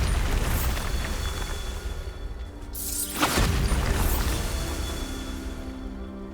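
A Bombarda blast spell goes off in the Hogwarts Legacy video game, with a loud swelling whoosh and booming burst midway over a constant roaring background, heard alone without talk.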